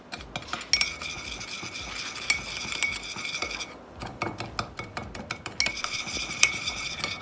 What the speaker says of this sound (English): We're going to combine all of the seasonings together.